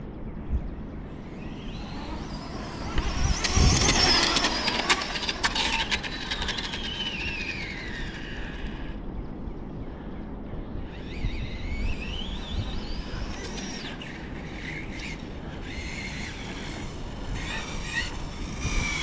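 An Arrma Infraction 6S RC car drives at high speed, its electric motor giving a rising and falling whine that swells loudly as it passes, then fades and builds again across several runs, heard from a distance.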